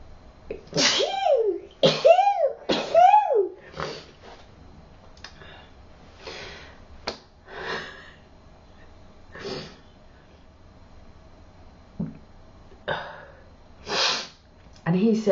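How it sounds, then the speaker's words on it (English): A single sharp sneeze, followed by sniffing and quiet breathy sounds, with a few short vocal noises scattered through an otherwise quiet room. "Gonna sneeze."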